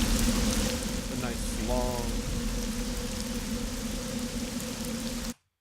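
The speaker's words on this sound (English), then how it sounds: "Exterior rain sounds." Exterior rain sound effect loop, a steady hissing patter of rain with a constant low hum underneath and a brief faint vocal sound early on, cutting off abruptly at the end.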